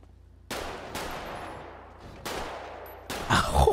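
Gunfire in the GTA video game: four sharp, loud shots at irregular intervals, each with a decaying echo tail, the last one heavier and denser, with no voices over them.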